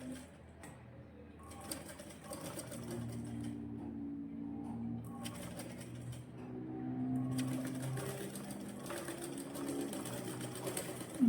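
A sewing machine stitches a dart in a blouse with a soft, steady mechanical whir. The stitching stops and starts in short runs, and a pigeon coos faintly in the background.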